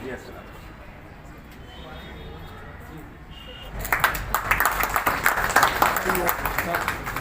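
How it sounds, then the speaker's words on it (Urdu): Loud applause breaks out at a school program for teachers and parents after a stretch of quiet room sound and talk, dense clapping rising suddenly and continuing strongly to the end. "زوردار تالیاں"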